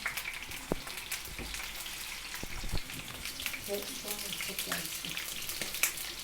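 Oil sizzles and crackles steadily in a pan, with scattered sharp pops and some faint clinks throughout.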